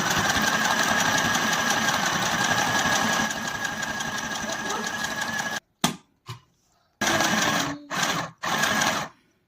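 A small Chinese sewing machine stitches in a fast, steady mechanical whir, then runs in short stop-start bursts with brief silences between them.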